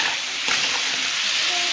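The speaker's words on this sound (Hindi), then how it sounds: "मैं पहले चिकन फ्राई कर रही हूँ" Chicken sizzles steadily in a hot pan while cooking down for a korma, with a close, dense hiss and faint stirring scrapes throughout.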